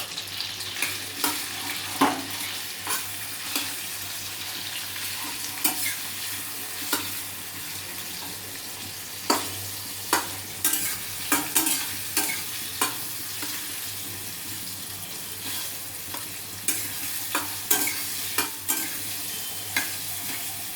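Stuffed kakrol (spiny gourd) pieces fry in a pan with a steady soft sizzle, broken by frequent spatula scrapes and stirring knocks, close up with no voices.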